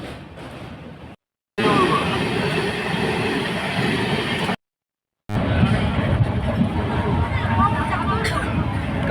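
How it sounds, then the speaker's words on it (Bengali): A passenger train rolls along near Siliguri with a dense, continuous rumble and rattle of carriages, broken by two short silent gaps, with voices murmuring faintly beneath the noise. "এই আমাদের ট্রেন।"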